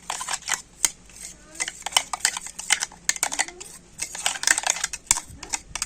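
A metal spoon scrapes and clinks repeatedly against a strainer while rice paste is stirred and pushed through, a close, busy pattern of quick taps and scrapes.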